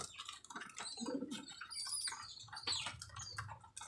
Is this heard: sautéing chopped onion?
no